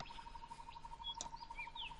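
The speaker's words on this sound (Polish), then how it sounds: "Kolejne ptaki. Eee, czarnowrony." Ravens, the black crows of the Titan Quest game world, give short, faint calls over a steady ambient hum and a looping tonal background, with a few brief chirpy notes scattered across two seconds.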